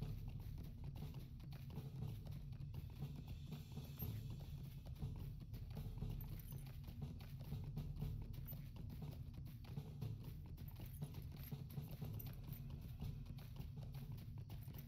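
Horse hooves clip-clop steadily while riding in Lord of the Rings Online, an even, continuous patter of hoofbeats held quiet and faint throughout.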